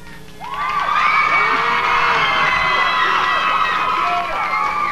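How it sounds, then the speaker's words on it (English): Studio audience at an intimate Silverchair session at Much Music in Toronto erupts in cheering, whoops and shouting with applause, loud and sustained after a quieter start. "you give him a round of applause"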